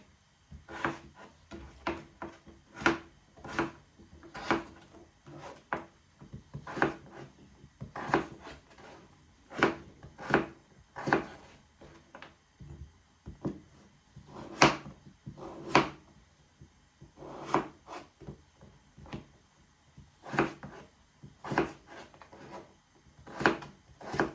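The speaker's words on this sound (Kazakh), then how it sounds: "Картошкамызды да кубиктап турап аламыз." A knife dices potatoes into medium cubes on a wooden board, giving many close thuds and knocks in uneven bursts, some quick runs and some spaced strokes, with no talking.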